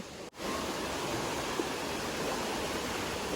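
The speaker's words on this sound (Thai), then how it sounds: "น้ำไหลค่อนข้างแรงนะคะ" Canal water at Khlong Maduea rushes strongly in a steady, loud broadband wash, continuous and close, with no voices over it.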